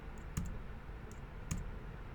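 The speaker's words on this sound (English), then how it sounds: "hit X on your keyboard." Two computer keyboard keys, Shift and X, are pressed, giving a couple of soft, brief clicks spaced about a second apart against a steady low room hum.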